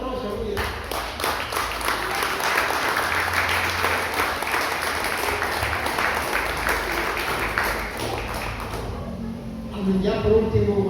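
A church congregation applauds loudly and steadily for about nine seconds, a thick wash of clapping that fades out before a voice resumes speaking.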